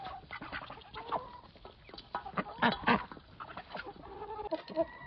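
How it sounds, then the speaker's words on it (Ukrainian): Young white hens clucking and squawking in a farmyard while being given feed, with a dense, lively chatter of close birds rising to louder bursts midway. "Курям подобається, о які всі біленькі."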